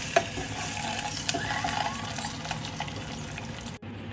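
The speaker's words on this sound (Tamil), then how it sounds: "எண்ணெயில் இந்த மசாலாவை போட்டு வதக்க போகிறேன்" Chilli, turmeric and garam masala spices sautéing in hot oil in a pan for egg biryani, a steady close sizzle with scraping stir strokes and small clicks, cut off sharply near the end.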